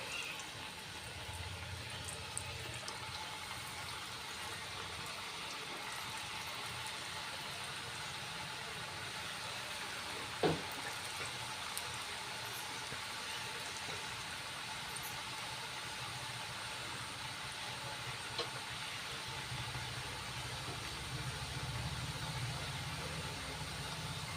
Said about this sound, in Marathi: आपलं तेल छान तापलेलं आहे, आपण आता चकल्या तळून घेऊ।